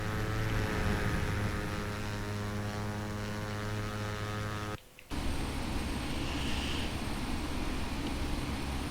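A twin-engine Let L410 turboprop drones steadily in flight in a flight simulator, a loud continuous engine hum with a brief dropout partway through, with no talking.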